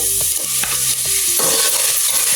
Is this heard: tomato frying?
yes